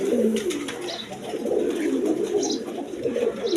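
A pair of red Shiraji Lahori pigeons coo steadily and closely, a low, rolling, continuous murmur with no talking.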